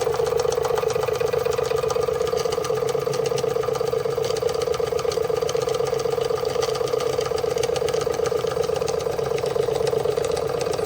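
A Marklin 16051 twin cylinder model steam engine runs at a steady fast pace, a close, continuous rapid mechanical chuffing and whirring hum with an even rhythm.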